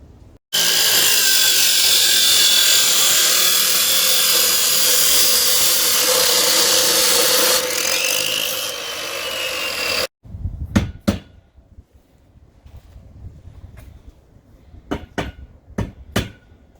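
An abrasive saw cuts 2-inch square steel tubing for a welded camper deck, screeching loudly and steadily for about ten seconds, then stops, followed by several sharp metal clanks and taps.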